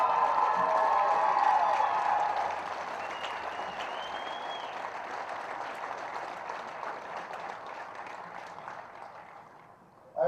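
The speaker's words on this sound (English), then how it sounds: "Everyone give a round of applause" Crowd applause at a men's college rugby championship final, sustained clapping and cheering that starts strong, then settles into a softer, steady wash before fading.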